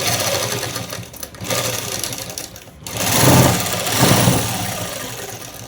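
A sewing machine runs in quick, steady bursts while stitching a shirt, its motor whirring loudly and close with short pauses between runs and no voices.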